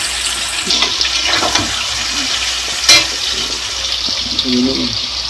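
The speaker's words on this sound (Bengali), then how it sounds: "মাংসগুলো দিয়ে দিলাম মাংসগুলো দিয়ে দিচ্ছি সব" Chicken pieces fry in a pan for chicken kosha, giving a steady close sizzle and bubbling with occasional scraping and clattering from stirring, and no talking.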